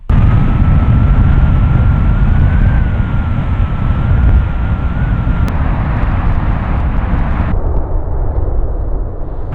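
A car driving at about 40-50 km/h with a model aircraft mounted on its roof gives a loud, steady rush of wind and road noise with a faint whine, easing slightly toward the end; no voices.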